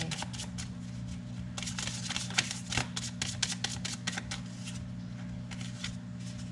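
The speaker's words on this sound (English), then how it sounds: "Let's get you a fortune cookie card." Fortune cookie cards are shuffled and drawn from a deck, a fast rapid riffling of card edges in quick bursts over a faint hum, close and soft, with no talking.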